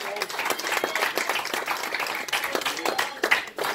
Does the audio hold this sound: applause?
yes